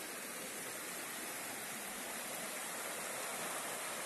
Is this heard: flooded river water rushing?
yes